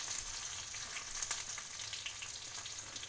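Chopped garlic and green chili sizzling in hot oil with curry leaves in a frying pan, a soft, steady crackling hiss heard close and alone, for a tempered rice dish.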